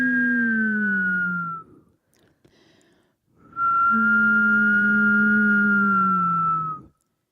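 A person hums and whistles at the same time, imitating wind: two sustained wavering tones gliding slowly downward, one long phrase, a short pause, then a second held phrase, close and fairly loud with no other sound.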